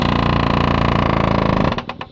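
Metal chiseling at spot welds on a rust-damaged third-generation Dodge body panel, a rapid continuous pneumatic hammering rattle that runs loud and close, then breaks into a few separate blows before stopping.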